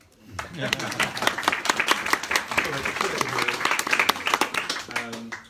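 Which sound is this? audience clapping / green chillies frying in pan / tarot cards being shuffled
audience clapping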